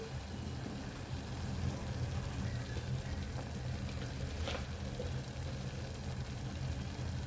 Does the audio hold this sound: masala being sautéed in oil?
yes